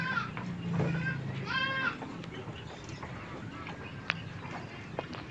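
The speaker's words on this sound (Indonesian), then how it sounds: "Ini dia kambing-kambingnya, nampak segar, lagi istirahat dia." Goats resting in a pen after rain give a couple of clear bleats early on, then settle into quieter shuffling and ambient farm noise.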